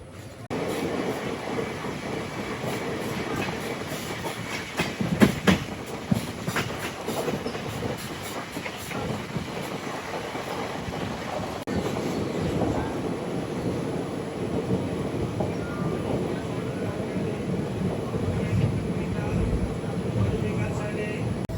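Guntur Rayagada Express rolling on rails during shunting, a steady loud rumble with rhythmic clatter and a burst of sharp clicks partway through, continuous throughout.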